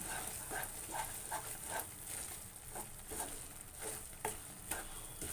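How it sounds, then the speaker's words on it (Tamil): Continuous scraping and stirring of a coconut and sugar burfi mixture in a pan with a soft sizzle, repeated strokes in a steady rhythm, close by with no talking. "இதை வந்து நீங்கள் கை விடாமல் கிளறணும்"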